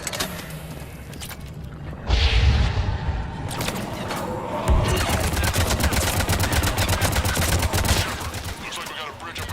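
Mass Effect 3 combat: bursts of rapid automatic gunfire rattling loudly for several seconds, with heavier thumps between volleys and some speech under the shooting.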